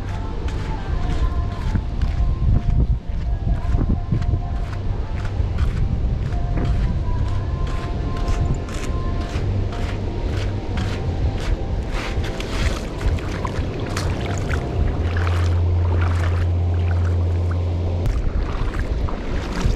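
Heavy wind buffeting a microphone while fishing outdoors, with a rough, continuous roar, dotted with brief gusty bursts and sporadic knocks.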